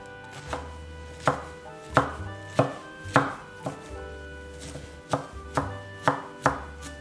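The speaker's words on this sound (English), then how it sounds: "now I am going to chop the lettuce to the small pieces" A knife chops lettuce into small pieces on a board, making about a dozen crisp thuds at an uneven, moderate pace, close and clear, with no talk.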